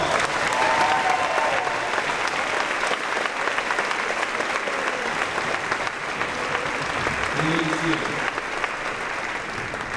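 Sustained applause from a crowd at an eighth grade promotion ceremony, loud and steady for the whole stretch, with a few faint voices and cheers mixed into the dense clapping.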